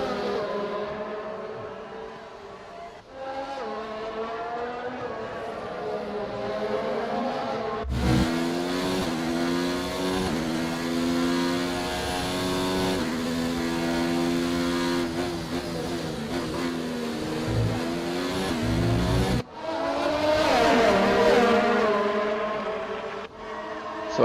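Ferrari and other race cars in a racing simulator at Melbourne, engines revving and shifting up through gears, loud and continuous with sharp pitch drops at each gearchange and a burst of acceleration near the end.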